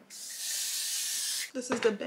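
A continuous hiss of light, flexible hold hairspray from an aerosol can, sprayed onto a wig, lasts about a second and a half, then a voice begins speaking close by.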